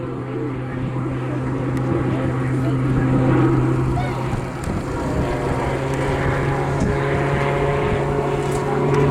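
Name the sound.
Tucano T1 aircraft performing airshow display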